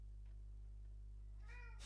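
A cat meows once, faint and brief, near the end, over a steady low electrical hum with no talk.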